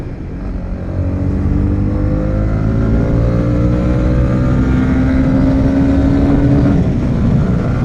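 A Honda CB300 motorcycle pulls away from a standstill, its engine note climbing steadily through the gears as it accelerates, loud and close with steady wind rush and no talk.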